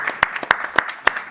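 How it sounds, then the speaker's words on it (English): Sparse clapping from a forum audience, a handful of distinct, fairly close claps spaced irregularly over a quiet background. "Loud applause for it."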